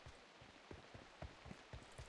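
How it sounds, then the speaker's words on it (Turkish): Rain falls in the PUBG Mobile battle royale game, a steady soft hiss of rainfall with scattered drop taps, quiet and continuous throughout with no talking. "Evet, yağmur da başladı."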